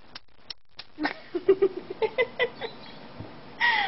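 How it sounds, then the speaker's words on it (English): A quick series of small, wet smacking clicks made with the tongue, about a dozen in a loose rhythm, close and fairly soft, ending in a brief hiss. "I can do kissy sounds with my tongue."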